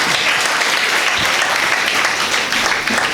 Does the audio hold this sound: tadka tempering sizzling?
no